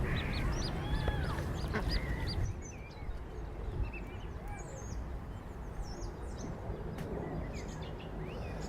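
Egyptian geese in Kensington Gardens near the Round Pond give repeated honking and quacking calls at moderate distance, busiest in the first few seconds and then scattered, over a background of park ambience and distant voices.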